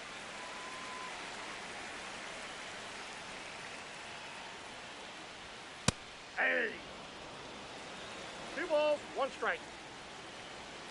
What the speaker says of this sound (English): By the way, it's raining here